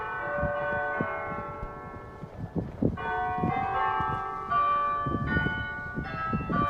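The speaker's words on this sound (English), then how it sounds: "This is Georgetown College ringing their bells." Georgetown College church bells peal in overlapping, sustained tones, several bells struck in a continuous ringing sequence that carries alone without talk, resonant and moderately distant.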